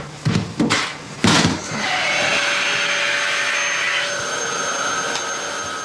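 A vacuum cleaner hoovering indoors, starting after a few knocks and bumps and then settling into a steady loud whine and roar that runs to the end, with a slight drop in pitch partway through.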